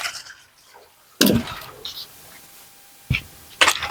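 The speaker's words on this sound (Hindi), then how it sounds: "अब देखो कैसे धोया जा रहा है।" Clothes washed by hand in water, with a few sharp splashing and slapping bursts separated by quieter stretches of faint dripping and rustling, fairly close.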